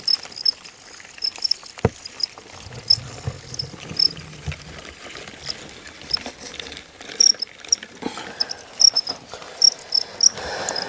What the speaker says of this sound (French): voilà tous les grillons.